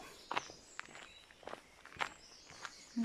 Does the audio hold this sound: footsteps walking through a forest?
yes